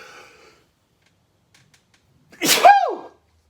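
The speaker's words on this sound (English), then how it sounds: "That was a sneeze." A single loud, sharp sneeze bursts out near the middle after a brief stretch of near silence, preceded by a faint trailing sound.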